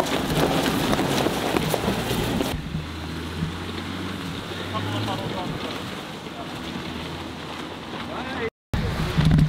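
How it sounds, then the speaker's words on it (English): Strong wind on Jones Lake in British Columbia, roaring and buffeting a microphone out on the water, heavy and continuous with gusting swells, a brief dropout near the end. "the wind is just going nuts on us right now"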